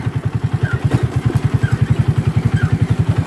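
Truck engine pulling steadily in second gear along a muddy off-road track without added throttle, a loud, even low chugging pulse throughout with some clattering on top.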